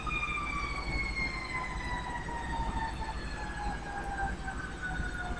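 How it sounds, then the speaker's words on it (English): Wailing emergency vehicle sirens drift along a busy street at night, several overlapping tones sliding slowly downward at a moderate distance over a steady rumble of traffic, with no talking. "Sirens. I don't know if you hear the sirens."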